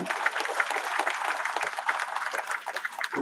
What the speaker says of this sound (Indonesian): Beri tepuk tangan untuk Sumedang.